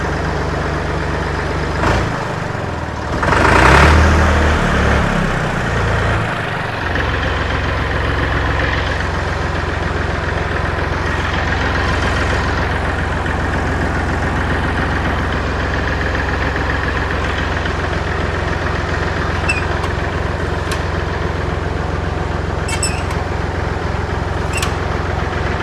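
A Massey Ferguson tractor engine idles steadily, a loud low rumbling chug with a brief surge near the start, then a constant even drone running on alone without talk.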